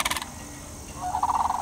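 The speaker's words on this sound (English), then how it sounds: "The crane's distinctive loud call can be heard up to 2 miles away." Sandhill crane giving its loud, rolling, rattling bugle call: a short burst at the start, a pause, then a longer trilling phrase at the end, close and clear.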